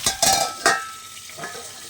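Pointed gourd (potol) frying in a pan: a few sharp stirring scrapes and clatters at the start over a soft sizzle that fades as the handling stops.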